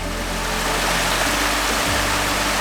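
A river in an early-spring boreal forest in Norway pours out at its mouth into a lake, giving a steady, loud, unbroken rush of flowing water with no voices.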